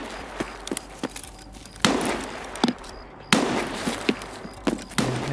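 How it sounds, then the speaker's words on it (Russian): An M1 rifle fires in the video game Escape from Tarkov: several sharp, loud single shots spaced irregularly, each with a short echoing tail, with no one talking. "М1 стреляет, какая-то быстрая"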